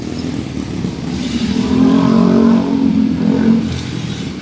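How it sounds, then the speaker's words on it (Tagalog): Heavy street traffic in the Philippines, with cars and motorcycles passing close by, as an engine drone swells and revs in the middle before easing off, all under a steady rumble. "grabe ang traffic dito"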